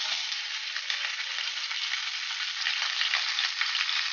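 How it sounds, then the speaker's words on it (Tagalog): Fish sizzling in hot cooking oil in a pan, a steady, close, dense crackle with small pops running unbroken throughout, no voices. "So guys, naglagay na po ako ng mantika dyan. Next naman po, ilalagay ko na po ang isda natin."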